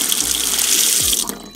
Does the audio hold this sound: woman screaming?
no